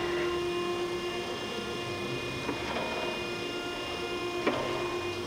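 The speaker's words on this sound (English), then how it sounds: "this will start the table again" Okamoto high-precision surface grinder table running, a steady mechanical hum with a few faint clicks as the table traverses, close and continuous with no talking.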